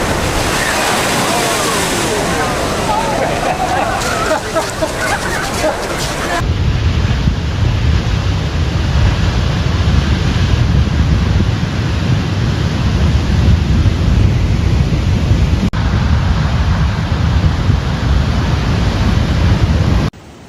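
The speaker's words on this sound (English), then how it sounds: "seaside streets were littered with debris, soaked with flooding and battered by big waves" Large ocean waves break along the California coast near Santa Cruz during a storm surge, a loud continuous roar of surf and wash mixed with heavy wind buffeting, steady throughout.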